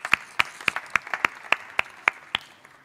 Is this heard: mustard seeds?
no